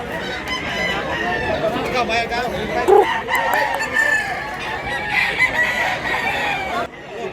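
A gamecock rooster at a Cebu market in Mantalungon crows once or twice amid clucking fowl and nearby voices, moderately close and fairly loud.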